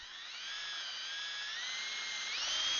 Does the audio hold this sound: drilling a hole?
yes